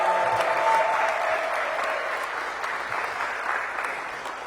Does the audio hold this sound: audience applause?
yes